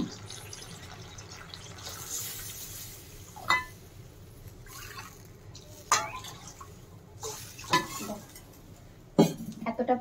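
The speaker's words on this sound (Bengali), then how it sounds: "এবার আমি মশলার যে জলটা ছিল সেই জলটা দিয়ে দেবো।" Spiced water poured into a cooking pot on the stove, a running liquid splash under soft background noise, broken by several sharp clinks and knocks of utensils against the pot.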